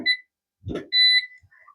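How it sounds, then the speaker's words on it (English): A kitchen timer is set while chicken chow mein cooks on the stove. Several short, bright electronic beeps sound close by, with one longer tone and a brief clatter between them, and no voices. "I'm going to set a timer."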